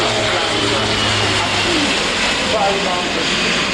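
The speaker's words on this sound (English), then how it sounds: "Spartan is running on the runway. The crew rotates approximately 30 degrees and nose up" Spartan military transport aircraft rolling down the runway and rotating nose-up at an airshow, its engines giving a loud, steady broadband roar that fills the whole clip.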